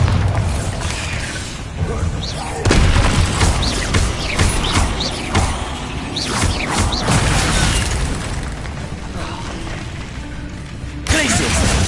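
Spell blasts and booming explosions from Hogwarts Legacy combat, including the Bombarda spell, burst repeatedly in a dense, loud barrage amid game effects, with a player shouting spell names now and then.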